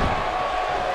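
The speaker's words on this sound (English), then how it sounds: "I don't think I've heard a Toronto crowd this loud since we were in the Dome for WrestleMania 18." A loud arena crowd roars in the WWE 2K18 wrestling video game, a dense continuous wash of cheering filling the short moment.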